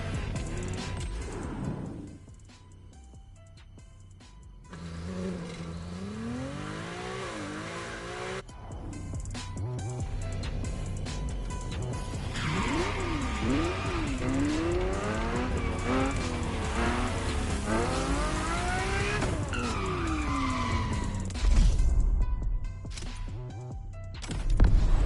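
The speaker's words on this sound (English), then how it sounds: "The car you're about to drive in this opening event is none other than the first Ferrari in the supercar bloodline, the Ferrari GTO." Ferrari GTO supercar in a video game, its engine note rising and falling through gear changes as the tires squeal and skid repeatedly, loud and continuous with no voices.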